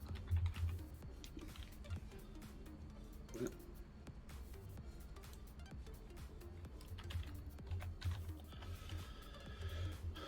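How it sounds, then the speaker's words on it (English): Steady keyboard typing during a co-op Satisfactory gaming session, a soft, continuous patter of key taps that keeps going for about ten seconds, with faint sounds in the background and no clear speech. "I don't know if typing fast really helps the team."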